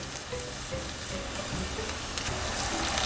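Onions with a pinch of asafoetida fry in a pan for a Nepali parwal aalu curry, giving a steady, close sizzle that runs the whole time with light stirring scrapes and no talk.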